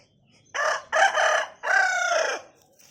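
A rooster crows loudly in three drawn-out bursts, with hens clucking faintly around it and no voices.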